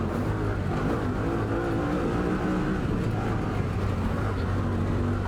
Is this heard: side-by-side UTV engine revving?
yes